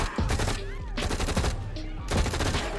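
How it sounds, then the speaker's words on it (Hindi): Police gunfire in the film Rampage comes in several sharp, rapid bursts of shots separated by short pauses, loud and close, mixed with other movie sounds. "पुलिस ने इस पर गोलियां चलाई"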